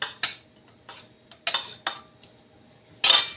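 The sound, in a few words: stirring candil dough in boiling pot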